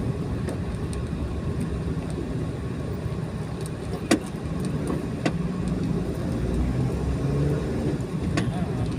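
A Suzuki minivan drives through traffic on flood-prone roads. A steady engine and road rumble is heard from inside the vehicle, with occasional sharp clicks and knocks over the drone.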